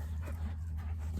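A dog whimpers briefly close by, a soft whiny whine over a low background hum.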